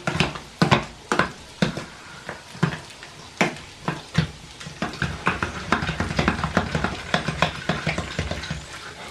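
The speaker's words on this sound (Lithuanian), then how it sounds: "Reikia taip įsukti dar, kad geresnė būtų košė." Repeated scraping knocks of a spoon stirring a thick fish cutlet mixture in a bowl, in an irregular rhythm, close by with no talking.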